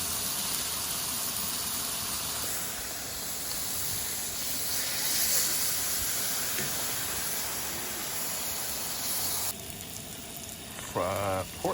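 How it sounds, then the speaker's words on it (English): Small steaks sizzling on a grill at a winter campsite in Oconee State Park, a steady dense hiss that holds for most of the time before thinning out, with a brief voice at the very end. "Got some little steaks on the grill."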